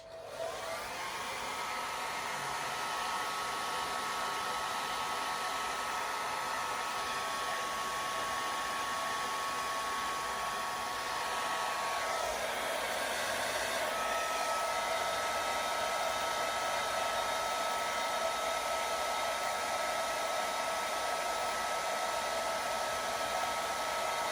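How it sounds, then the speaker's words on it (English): A handheld blow dryer runs nonstop at close range while drying a fake Christmas cake, giving a loud, even whir that holds for the full length with no voices. "I gotta turn the blow dryer on real quick"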